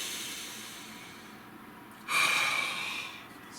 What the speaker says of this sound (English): Nice deep breath, please.